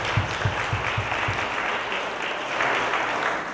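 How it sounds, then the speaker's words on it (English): An audience at a live web talent show quarter-final claps steadily, a dense wash of applause holding at an even level throughout. "A round of applause."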